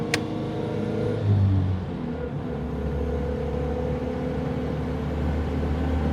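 A Lanchester LD10 car with a preselector gearbox cruises along an open road, its engine a steady low rumble with a brief swell early on, heard from inside the car without talk.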